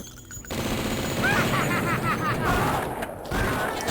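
Tesla cannon fired by a cultist enemy in a first-person shooter, a sustained crackling burst of rapid electric fire that runs steadily for several seconds, loud and close, with no talk over it.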